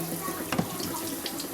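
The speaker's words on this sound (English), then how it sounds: "I'm going to turn a little hot water on" A kitchen tap runs into a sink while carrots are scrubbed for juicing, a steady close splash of flowing water with a brief louder gush partway through, no voices.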